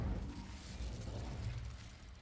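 An Incendio fire spell bursts in Hogwarts Legacy with a low, rumbling whoosh of flame that holds steady for about two seconds, fairly quiet and dense, with no voices.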